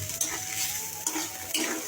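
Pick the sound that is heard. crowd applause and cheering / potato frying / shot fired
potato frying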